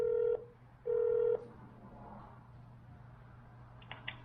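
Telephone tones sound as a police call is transferred. There are two short, steady electronic beeps, and a quiet line hum lingers after them. Faint clicks come at the end, with no voices.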